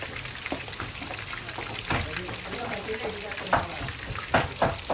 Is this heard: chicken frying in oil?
yes